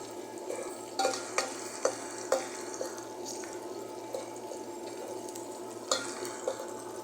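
Onion and green chili frying with ginger garlic in oil for a chicken curry, a soft steady sizzle with scattered spoon stirs and scrapes against the pan, fairly quiet and close.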